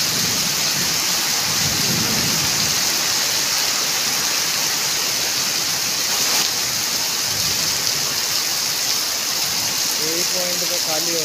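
Heavy rain pours down in a loud, unbroken roar that fills the whole stretch, with a faint low rumble suggesting thunder and a brief voice near the end.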